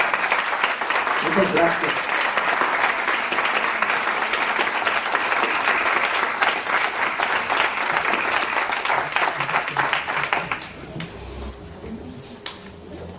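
Audience applause at an evening show, a dense, loud patter of many hands clapping for about ten seconds before it suddenly drops away, leaving a quiet room where a voice briefly speaks.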